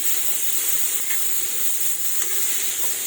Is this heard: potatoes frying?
yes